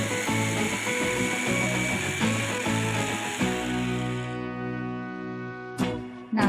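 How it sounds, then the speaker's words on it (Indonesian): An electric food chopper whirs steadily as it coarsely chops chili spice paste, the motor's loud buzzing pulsing slightly with the blades before winding down, followed by a couple of short bumps. "Ini saya chopper kasar aja teman-teman, jadi nanti bumbunya itu tidak terlalu halus ya"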